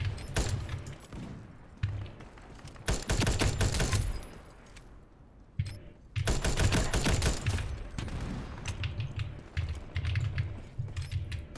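Gunfire in the online shooter Ironsight: dense bursts of rapid automatic fire with brief pauses between strings, loud and continuous over most of the stretch, no talk.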